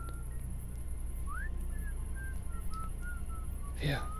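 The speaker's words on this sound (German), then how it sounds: "Vielleicht pfeift er im Schlaf." A character whistles in the video game Kingdom Come: Deliverance, a thin tune of short rising and level notes that runs steadily through the clip over a constant low game hum, ending in a brief louder sweep.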